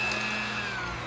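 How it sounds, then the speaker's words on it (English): An electric mixer runs on slow through cheesecake batter, giving a steady close whirring hum with a constant pitched whine and no talk. "Mix it on slow so you won't get too much air in this"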